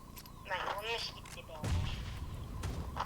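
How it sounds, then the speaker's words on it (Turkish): A heavy explosion in a video game, a booming low blast about halfway through that rumbles briefly, following a stretch of voices talking in the foreground. "Bak bomba atıyor görüyor musun?"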